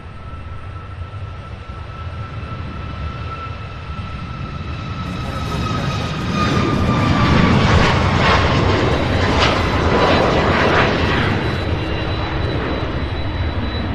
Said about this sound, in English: An MD-11 about to take off, you guys.